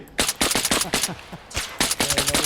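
Rapid bursts of gunfire in the video game Arma Reforger, clustered volleys of sharp shots with a short gap in the middle, loud and close.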